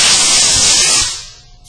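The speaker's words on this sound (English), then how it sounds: "you do need to use the air hose and blow it off another time before applying your second coat" Compressed air from a hose hisses loudly as it blows sanding dust off a wood project before a second coat of finish, a strong steady rush that cuts off and fades out near the end.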